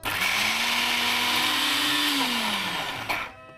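A kitchen blender grinds a wet mixture containing moong dal, its motor whining at a steady pitch that dips as the load shifts, then cuts off abruptly near the end.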